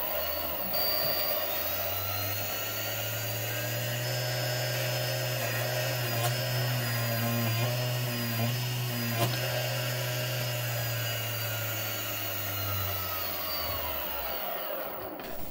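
A brushless DC motor run by a speed controller spins up from rest, holds a high steady whine with rising harmonics, then winds back down, close and alone.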